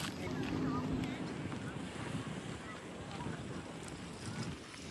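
Wind gusts outdoors where kites are flown, a steady broadband rush with buffeting against the microphone, faint and continuous, with a hint of distant voices underneath.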